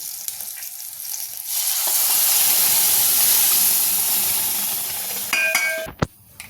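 Spinach dropped into hot oil tempering for a palak gargati bursts into a loud, steady sizzle that holds for several seconds, then fades as a few clinks from the pan come through at the end.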